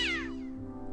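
A cat in Day of the Tentacle lets out one short, sharp screeching yowl when grabbed, falling in pitch and fading over a steady hum.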